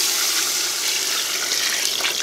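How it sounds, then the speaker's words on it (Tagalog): Tap water runs into a pot for Ilonggo pochero, a steady, fairly loud rushing and splashing stream that carries on unbroken with no talk over it. "lagyan natin ng tubig."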